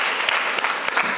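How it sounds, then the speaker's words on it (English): A brief burst of dense, continuous applause from an audience at a school debate competition honoring the Mbooni Girls High School team, with a few sharper claps standing out. "Please give them a round of applause."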